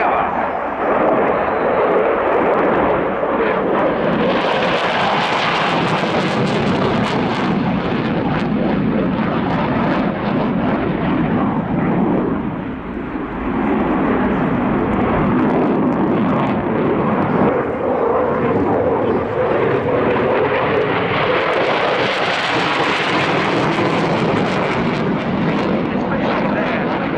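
A Dassault Rafale C fighter jet flies an airshow display at RIAT 2018, its loud continuous jet roar swelling and fading as it turns overhead, with a commentator talking over the noise.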